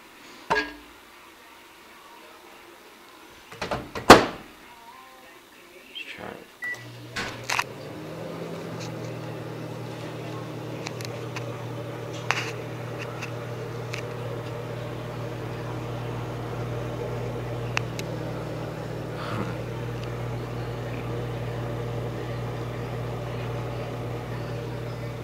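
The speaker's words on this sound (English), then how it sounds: "Microwave." A microwave oven runs with a steady low electrical hum and constant drone, starting after a few clicks and rustles, then running evenly in the background.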